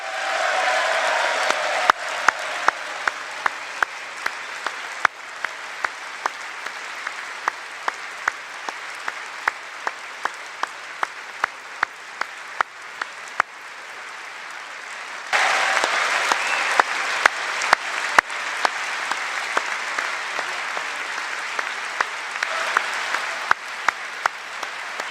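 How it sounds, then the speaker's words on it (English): Sustained applause fills an audience at a State of the Union address, with one loud, close pair of hands cracking out sharp, rapid claps above the steady crowd clapping throughout. "Trump was so excited by his speech that he couldn't stop applauding himself"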